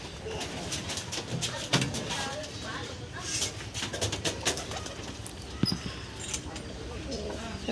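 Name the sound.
pigeons cooing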